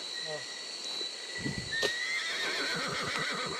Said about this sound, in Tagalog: May boses ng kabayo dun